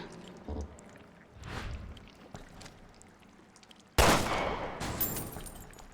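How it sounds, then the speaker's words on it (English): Gunfire in a Resident Evil game as a character shoots at a key hanging out of reach in a dark area: a faint early report, then a loud sharp shot with a rattling tail near the end, against quiet game ambience. "Let me try shooting it down."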